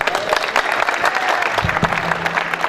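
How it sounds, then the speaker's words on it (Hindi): An audience claps after a performance at a hostel day event, a crowd of hands in a fairly loud, continuous burst with a brief voice rising underneath partway through. "समस्त कार्यक्रम में तालियां।"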